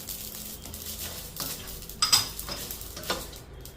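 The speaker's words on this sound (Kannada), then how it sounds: "ನೋಡಿ, ಚೆನ್ನಾಗಿ ಸಿಡಿದಿದೆ." Sesame and poppy seeds splutter in a hot pan, with soft crackling and scattered pops, a few sharper clinks of a spoon or metal against the pan, and irregular stirring scrapes at close range.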